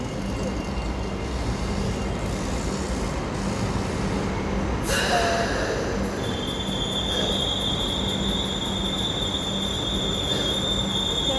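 A light rail train rolls steadily along the rails with a constant rumble, then a high, sustained wheel squeal rises and holds through the second half.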